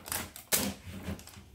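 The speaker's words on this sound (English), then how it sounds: "when it tears, just keep ripping off the zipper" A plastic blind-bag zipper is ripped open, giving quick, crisp tearing and crinkling bursts up close, with one sharp rip standing out among the rapid clicks.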